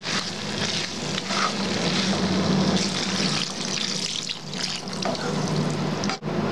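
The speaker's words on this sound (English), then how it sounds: "Add this amount of water here." Water poured into a pan of yellow peas curry for a Bengali-style ghugni, a steady splashing pour with a faint sizzle, continuous and fairly loud for about six seconds before a brief dip near the end.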